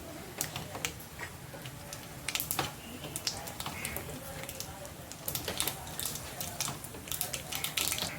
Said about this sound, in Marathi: मोहरी आपली चांगली तडतडायला लागली आहे